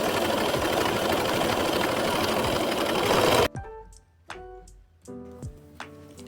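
A sewing machine runs fast and steady stitching a tight, small zigzag on knit fabric, a loud close whirring hum that stops abruptly, followed by a few faint clicks and taps.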